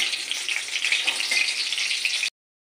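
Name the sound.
frying spices in oil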